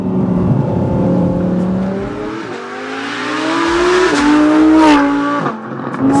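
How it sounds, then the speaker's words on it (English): An Audi R8 engine revs hard and loud, pitch climbing through gear changes, then the exhaust pops and crackles as the throttle lifts, heard from inside the car. "Listen to the crackles as you let off."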